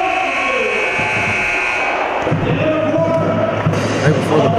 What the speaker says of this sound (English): Right before the buzzer.